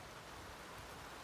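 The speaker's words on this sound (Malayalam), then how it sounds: "പൊടിമഴയാണെങ്കിൽ കുളിക്കടാ." A light drizzle of rain in Kochi, heard as a soft, even hiss of fine drops that is faint and steady throughout the brief moment, with no voices.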